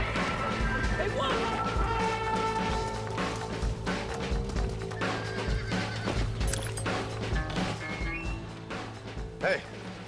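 A horse neighs loudly in a Red Dead Redemption cutscene, a shrill whinny rising over hoofbeats and a crash, with voices speaking over the commotion.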